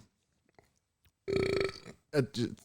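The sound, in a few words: burp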